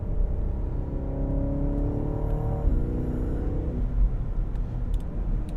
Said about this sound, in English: Turning in sharply. Accelerating.